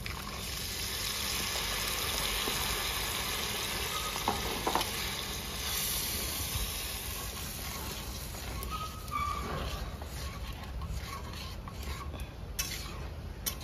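Tomato paste sizzles and fries in onion-infused oil for a masala curry with fish roe, with steady crackling spatter and intermittent scraping of a spoon stirring the pan, close and continuous throughout.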